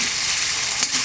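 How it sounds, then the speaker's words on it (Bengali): Onions fry in a pan before meat is added, a loud continuous sizzle with a stirring scrape near the end, heard up close with no voices. "এবার পেঁয়াজটা ভাজা চলছে"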